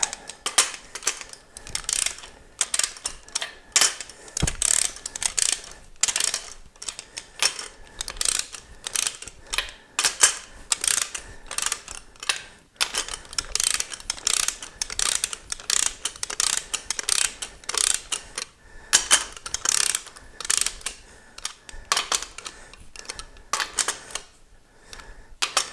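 A torque wrench ratchets on the bolts of an Olds 455 engine, giving rapid clicking bursts in uneven runs with brief pauses between them, close and fairly quiet, no talk.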